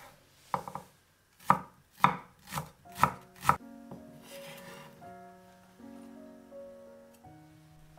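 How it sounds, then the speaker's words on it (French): A knife chops 40 g of shallots on a board, giving about six crisp, evenly spaced thuds up close, followed by quiet tonal background sound. "J'émince 40 g d'échalotes"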